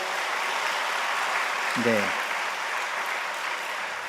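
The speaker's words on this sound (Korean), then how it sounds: "박수 한번 쳐주세요." A church congregation at a Sunday service applauds with dense, steady clapping that fills the whole stretch at moderate loudness, while a single short spoken word cuts in near the middle.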